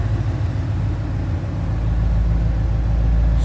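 A 2014 Ford Mustang GT with a 5-liter V8 runs steadily close by, a deep, even low rumble holding at idle with no one talking.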